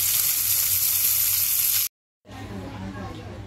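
Prawns frying in a pan give a steady, loud broadband sizzle that drops to silence for a moment and then resumes a little softer.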